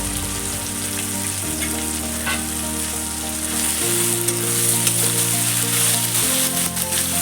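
Chicken curry being sautéed with dried red chili powder and cumin powder in a pan: a loud, continuous frying sizzle with occasional stirring clatter, close and steady throughout.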